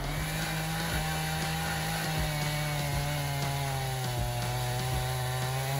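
A chainsaw with a blade up to 1.5 meters long roars continuously up close while cutting a tree stump, its engine note bogging slightly as the chain bites into wood, loud and steady with no voices.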